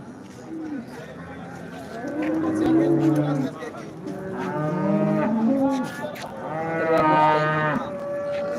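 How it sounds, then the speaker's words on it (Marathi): Cattle lowing at a rural livestock market in Modnimb, Solapur district, Maharashtra: several long, loud moos, close and overlapping, repeating every couple of seconds over crowd noise. "दुधाला चांगली उतरलेली गाय तुम्हाला पाठीमागून दाखवतो"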